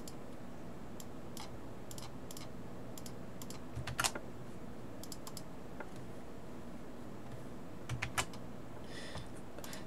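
Keys clatter on a PC computer keyboard as someone types in bursts of rapid clicks with short pauses, close and fairly quiet over a low room hum.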